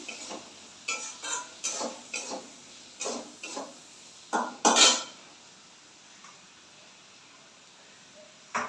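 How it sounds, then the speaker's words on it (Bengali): Rohu fish roe curry with yogurt is stirred and fried in a pan. A spoon scrapes and clinks against the metal in a quick run of close knocks over a faint sizzle, then settles into a quieter stretch. "একটু সামান্য মিষ্টি দিয়ে দিলাম দিয়ে আবার ভালো করে কষাতে থাকবো"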